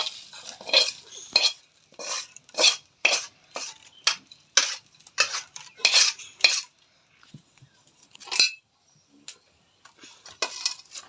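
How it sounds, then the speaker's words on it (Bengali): Fried dried fish being tipped from a pan into a bowl, with a series of sharp metallic scrapes and clinks from a utensil in quick irregular bursts, close and loud against a quiet background. "এখন বাটিতে ঢেলে দেব।"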